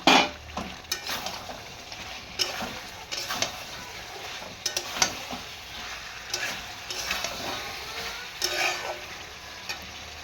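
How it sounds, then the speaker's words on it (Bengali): Pointed gourd (potol) and potato pieces sautéed with spices and chili powder in a pan. A steady sizzle runs throughout, broken by repeated irregular scrapes and clinks of the spatula against the pan. "এবার পটল আর আলু দিয়ে আবার ভালো করে কষবো।"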